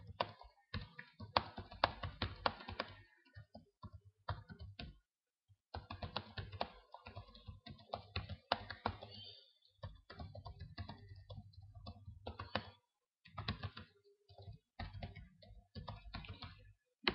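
Typing on a computer keyboard comes in quick, close bursts of clicking keys, separated by brief pauses and quiet stretches.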